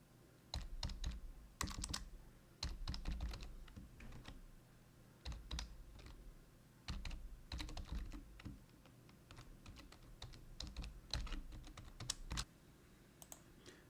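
An email and password being typed on a computer keyboard, close clicky keystrokes in quick bursts with short pauses between them, quiet and with no voices.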